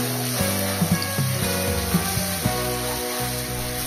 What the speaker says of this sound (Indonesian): Ini kita tumis sebentar aja sampai bumbunya itu harum.